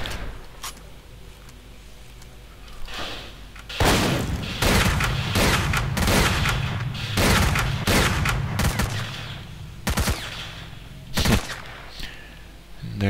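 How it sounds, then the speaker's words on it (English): Gunfire in S.T.A.L.K.E.R.: Call of Pripyat: after a quieter opening, a heavy burst of distant and near rifle shots erupts, with rapid volleys and booming single cracks scattered across the remaining ten seconds. "They're just aimlessly shooting"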